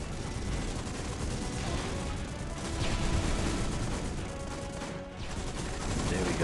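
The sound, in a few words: gunship skill firing on howitzers in video game Call of Duty Heroes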